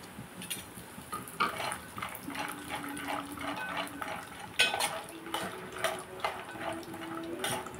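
Peanuts dropped into hot oil for idli chutney, with crackling sizzle and scattered metallic clinks from a pan and spoon, fairly close and moderately quiet, no talking.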